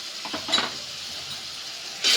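Spices frying in a pan for a duck egg curry while being stirred, a steady close sizzle with a few scraping strokes, swelling louder at the end.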